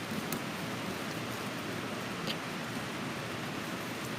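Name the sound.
rain on a metal building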